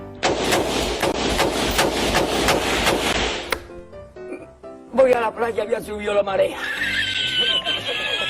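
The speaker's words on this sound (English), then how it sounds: "This is what an AR-15 sounds like." AR-15 rifle fire rings out in a rapid string of sharp, loud close shots for about three seconds, followed by further chaotic bursts and clattering mixed with other sounds.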